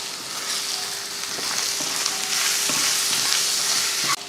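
Boiled, hand-shredded chicken is stir-fried with spices and salt in a pan, sizzling steadily up close while a utensil scrapes and taps against the pan at intervals.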